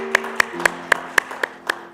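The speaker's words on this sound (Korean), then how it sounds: "우리 박수로 축하하겠습니다." A congregation at a church Christmas service claps in a slow, even rhythm, about eight distinct claps, over a sustained low tone in the background.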